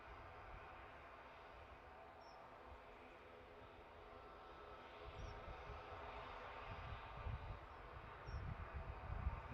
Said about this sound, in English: we have an inbound aircraft. That'll be the Chicago United flight